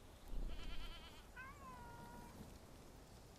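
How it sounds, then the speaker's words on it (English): A cat in the medieval video game Bellwright gives a single faint meow while being petted, set against a steady ambient background of game noise. "You have to pet the kitty when you come to town."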